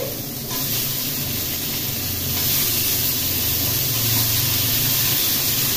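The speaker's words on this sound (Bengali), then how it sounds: "নারকেল কোড়াটাও ভেজে নেব।" Grated coconut fries in a pan with a steady, close hissing sizzle that fills the whole clip and grows slightly louder partway through, with no talking.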